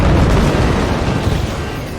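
Armor-piercing sniper shot striking the reactor core in the Forts strategy game, a loud low booming impact with explosive rumble filling the moment, no speech.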